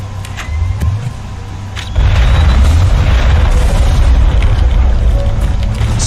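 Loud explosive boom from a Carnage weapon ability in the Mass Effect video game, a sharp blast swelling into a sustained roaring rumble that carries on for several seconds after a quieter lead-in, with no talk over it.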